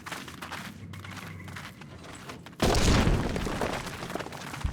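A sudden loud explosion bursts out in a Final Fantasy XIV battle, a sharp blast followed by a sustained rumbling roar that slowly fades, after quieter game ambience.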